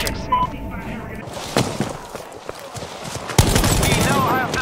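Gunfire rattles through the Battlefield Hardline video game in sharp, uneven bursts and single shots mixed with game effects, loud and close, while voices talk over parts of it.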